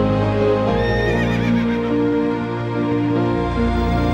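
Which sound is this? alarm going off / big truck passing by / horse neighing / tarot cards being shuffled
horse neighing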